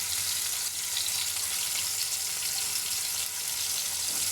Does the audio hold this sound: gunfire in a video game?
no